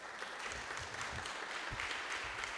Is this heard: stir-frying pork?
no